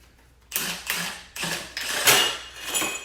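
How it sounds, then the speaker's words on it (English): A bolt is broken loose during a Legend AXEO 23 install, giving a series of loud ratcheting creaks and mechanical clunks in uneven bursts, close by, with no talking. "as soon as that bolt broke loose, it dropped the lower dampener out"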